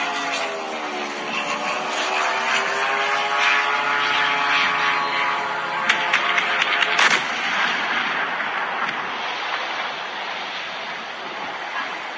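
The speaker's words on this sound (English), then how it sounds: "I've heard it told that these are Russian drones striking Ukrainian buildings" Wartime drones strike buildings in Ukraine: a loud propeller-like drone whine rises and falls, then sharp impacts and crackling blasts ring out amid distant rumbling.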